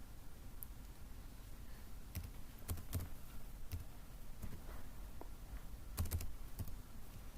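Typing on a computer keyboard while entering a date of birth into an online form: quiet scattered key taps and a few short clustered bursts over a steady low background hum, with no voices.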